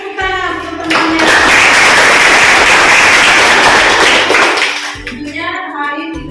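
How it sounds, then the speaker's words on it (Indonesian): A classroom of high school students applauds their classmates, a loud burst of dense clapping lasting a few seconds before fading, with a teacher's voice speaking just before and after. "Ayo kita beri tepuk tangan teman-temannya."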